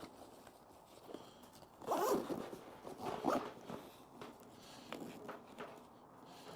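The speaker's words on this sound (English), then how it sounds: "the zippers" Backpack zippers are pulled closed in two quick bursts of rasping, close and fairly loud, with soft handling rustle around them and no talk.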